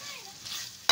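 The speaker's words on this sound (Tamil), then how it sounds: "நல்லா கிளறணும் அதுன்னு அப்படி" A spoon stirs chili chicken curry in plenty of sesame oil, with a soft scraping sizzle close by, ending in a sharp clink.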